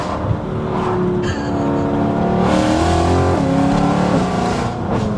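BMW E92 M3 with a custom exhaust revving hard, a loud, raspy engine roar rising and surging through several throttle blips, close by and dominating throughout.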